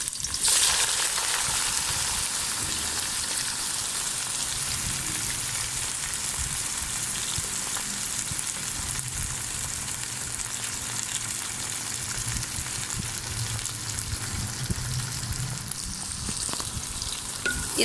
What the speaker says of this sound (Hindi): इसको हम ना हल्का सा ऐसे ऐसे फ्राई करेंगे, इसी ऑयल में फ्राई करने हैं इसको।